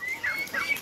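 Soft, brief clucking from chickens, a few short calls rising over a quiet farmyard background, fairly close.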